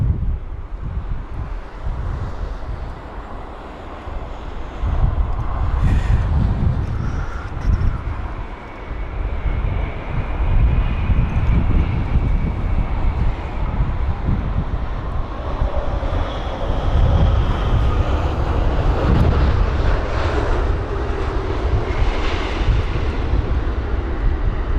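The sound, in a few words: British Airways Boeing 787-9 Dreamliner landing on runway 27 right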